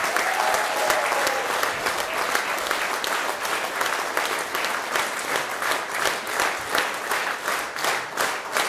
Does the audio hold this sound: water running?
no